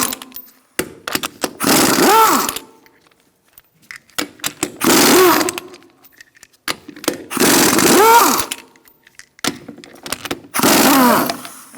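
An impact gun with a 19mm socket spinning off the rear wheel lug nuts on a 2002-2006 Honda CR-V, four loud buzzing bursts of a couple of seconds each with brief pauses and clicks between.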